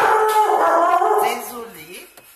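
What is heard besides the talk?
dog barking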